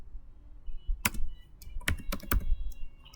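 Several keys on a computer keyboard are pressed in a quick, irregular cluster, sharp close clicks over a quiet background with nobody speaking.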